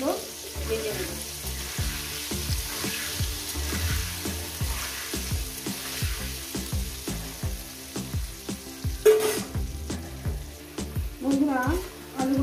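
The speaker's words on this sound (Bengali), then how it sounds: "সুন্দর করে আমি আলুগুলো ভেজে নেব।" Potatoes frying in oil for a vegetarian jackfruit curry give a loud steady sizzle, with repeated scraping stirs at a regular rhythm and a brief splash of water partway through.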